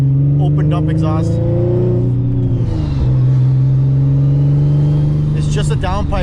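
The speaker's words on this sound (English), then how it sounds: "What you're hearing right now is literally just a open dump exhaust." A turbocharged, 800 hp built Infiniti G37 coupe engine drones loudly and revs through an open dump exhaust on a 3-inch downpipe straight off the turbo, with a person talking over it at the start and end.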